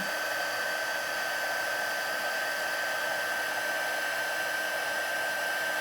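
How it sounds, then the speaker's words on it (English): A heat tool blows steadily to melt embossing powder for a stamping craft, a continuous airy whoosh with a faint high whine, loud and unbroken throughout with no talking. "Go ahead and grab the heat tool."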